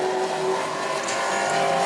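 The B&B Truck Corral JS Diesel pro racing truck runs a qualifying lap at New Smyrna, its engine a loud, steady, droning roar close to the microphone with no break.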